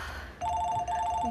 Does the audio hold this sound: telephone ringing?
yes